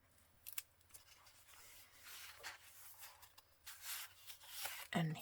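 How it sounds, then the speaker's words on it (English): A paper envelope in a floral junk journal being flipped open, with soft papery rustles and rubbing scrapes in short bursts, close and quiet, ending in a sharper crinkle. "This envelope flips open."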